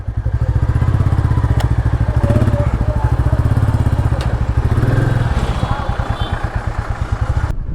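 A Royal Enfield motorcycle, freshly back from its first service, rides along with a steady, deep thumping single-cylinder beat, loud and close, under a rider's voice.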